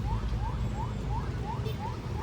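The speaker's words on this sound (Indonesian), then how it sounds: "Damkar sudah mulai masuk ke dalam. Jalanan penuh macet, tidak bergerak." A fire engine's wailing siren repeats in quick rising sweeps as it arrives through jammed, unmoving traffic at a building fire in Padang, West Sumatra, over a heavy low rumble of engines.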